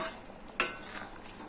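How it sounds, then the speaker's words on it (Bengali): Ghee and garam masala stirred in a cooking pan: a single sharp clink of the spoon against the pan stands over a faint, steady background hiss. "ঘি আর গরম মশলা খুব ভালোভাবে মিশিয়ে দিচ্ছি"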